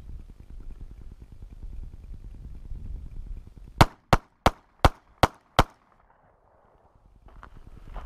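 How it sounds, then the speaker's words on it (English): Six sharp gunshots from point shooting at a target, fired in a quick, evenly spaced string, loud and close, with a low mechanical clatter beforehand and quiet afterward. "Pretty fancy shooting."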